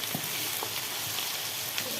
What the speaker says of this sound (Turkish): şu anda bir kilo soğan var arkadaşlar içinde. Bol soğan doğranır. Kavrulmaya başlar.